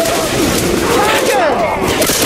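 Dense, continuous gunfire from the game Left 4 Dead 2, with overlapping shots and bursts packed tightly together at steady loudness, and players' voices mixed into the clatter.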